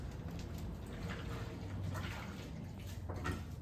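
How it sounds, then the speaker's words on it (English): A kitchen faucet runs while hands are washed after breaking up salmon fillets, giving a faint, steady splashing stream with small irregular spatters throughout. "let me wash my hands."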